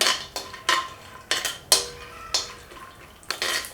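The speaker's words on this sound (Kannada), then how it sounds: "ಗೋಲ್ಡನ್ ಬ್ರೌನ್ ಬರೋ ಫ್ರೈ ಮಾಡ್ಕೊಬೇಕು ನೋಡಿ ಗೋಡಂಬಿ" Cashews frying in hot ghee while a spoon scrapes and clinks against the pan in sharp, irregular strikes, with a soft sizzle between the taps.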